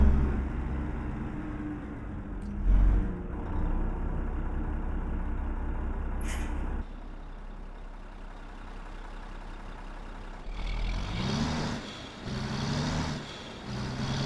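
Mack R truck with a 300hp engine in American Truck Simulator pulls slowly with a low, rumbling drone, dropping in tone at a gear change, then rising again with rushing air noise.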